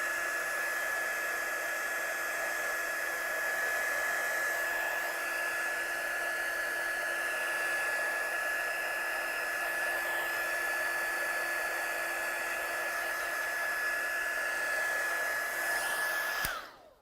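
A heat tool blows a constant, steady whir over an inked stamp background to dry it. The sound runs unbroken for about sixteen seconds, then cuts off abruptly.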